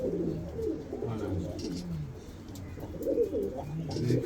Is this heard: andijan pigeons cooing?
yes